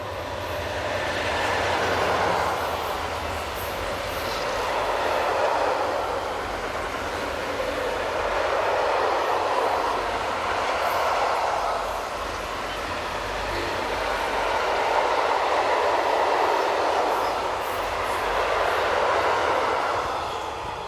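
A freight train of chemical products hauled by Railpool electric locomotive 186 274 rolls steadily past, its wagons giving a continuous rumbling, rushing rail noise that swells and eases in long waves throughout.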